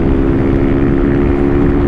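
A Honda Titan motorcycle fitted with a new aftermarket exhaust runs steadily close by, its engine giving a loud, continuous drone with a low rumble and no break for the full two seconds.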